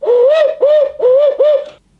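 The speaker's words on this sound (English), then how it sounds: "you can use a owl hooter like this one" An owl hooter call used to locate turkeys sounds four loud, close hooting notes in a quick rhythmic series, each sliding up and then falling, played alone with silence after.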